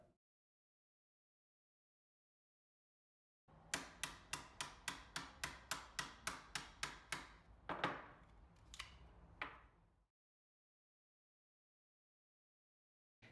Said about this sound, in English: I'll take the hammer and gently tap on the X-Acto knife so that it cuts through the cane.